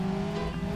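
A car engine in BeamNG Drive revved hard toward the red line, a brief, steady, loud mechanical roar held at high revs.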